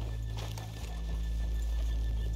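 Horses in Red Dead Redemption 2 standing near a town's main street, with soft hoof clops and shuffling over a steady low game ambience, fairly close and unhurried.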